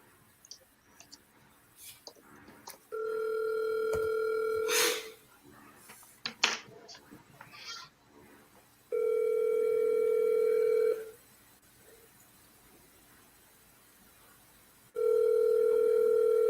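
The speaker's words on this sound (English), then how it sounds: "So I'm dialing now." A phone call being placed, with a few clicks and quick tapping at first, then a cluster of dialing sounds and a burst of noise, followed by three long ringback tones with quiet gaps, faint murmuring in between.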